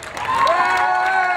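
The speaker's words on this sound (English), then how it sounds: "Huge round of applause." A crowd at the Light the Night charity walk in Philadelphia claps and cheers loudly and steadily, with a few shouts rising above the dense outdoor applause.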